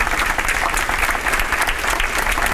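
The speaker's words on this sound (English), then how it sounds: "You can clap for that." Banquet audience at a Teacher of the Year event breaks into loud, sustained applause, a dense steady wash of many clapping hands filling the room at close range.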